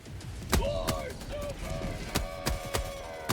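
Gunfire from the player's weapon in Helldivers 2 cracks out in sharp, irregular shots amid a busy battle against bug enemies, with tonal game sounds and mechanical clatter layered underneath.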